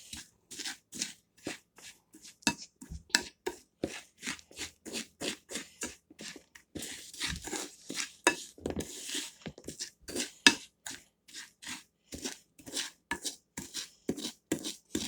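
A spoon scrapes and clacks rhythmically against a pan, stirring zucchini casserole ingredients into melted butter in a steady series of short, crisp strokes.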